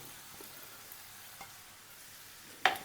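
Potato and spinach fry softly in a pan for a Kerala aloo palak mezhukkupuratti, a low steady sizzle with faint stirring scrapes and one sharp clink of the spoon near the end.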